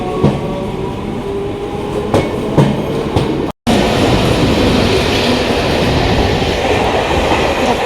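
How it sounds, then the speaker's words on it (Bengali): A train rolls past a station platform, loud and close, with rhythmic clickety-clack wheel beats and a dense rumble that carries on without a break, apart from one brief dropout. "ট্রেনটা আওয়াজ করবে, ট্রেনটা ভিডিও করবো"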